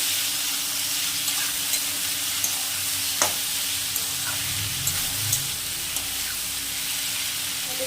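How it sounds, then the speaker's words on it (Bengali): Cauliflower stalks and mixed winter vegetables fry in a pan, giving a steady close sizzle with soft scraping strokes of stirring and a few light clicks of the utensil against the pan. "আবার একটু নেড়ে নেবো"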